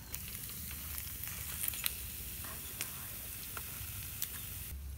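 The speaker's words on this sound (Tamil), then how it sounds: "இப்போ ஒவ்வொரு மீனாக போட்டு பொறிச்சு எடுத்துடலாம்" Kendai fish frying in hot oil in a pan over a village fire, a steady close sizzle and crackle running throughout with a few sharp pops and spits.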